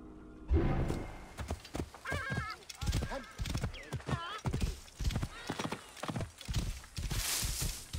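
Horse hooves clip-clop in a steady rhythm with a loud whinny in the video game Assassin's Creed Origins, alongside busy battle noise and a voice talking over it.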